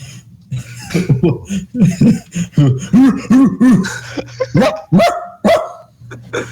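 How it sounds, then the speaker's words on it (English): A dog barks repeatedly in short bursts close by, while people talk and laugh over it. "And then when he starts barking."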